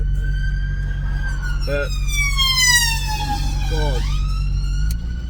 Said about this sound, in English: That was the siren.